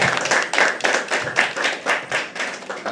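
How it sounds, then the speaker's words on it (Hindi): Steady, rhythmic applause fills a room at a poetry open mic as the audience claps in unison for the host, with loud, regular beats about twice per second and no talking. "अपने होस्ट हर्ष के लिए जोरदार तालियां बजा दो."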